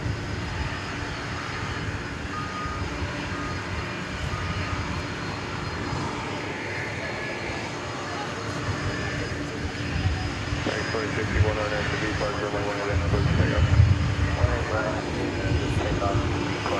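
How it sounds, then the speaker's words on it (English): Iberia Airbus A330-300 jet airliner, 11 years old, at DFW Airport, its engines giving a steady broad roar that swells louder toward the end, heard at a distance amid outdoor ambience with some talk. "the Iberia A330-300. This is an 11-year-old plane headed back to Madrid."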